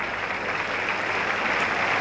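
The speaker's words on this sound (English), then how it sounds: "Applause for Kimball as he's escorted from the field." Crowd at a 1985 Australia v New Zealand rugby league Test applauds an injured player leaving the field, a steady, distant wash of clapping from the stands.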